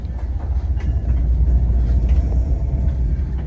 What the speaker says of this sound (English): And that's MBTA train 735, bound for Forge Park, I-495.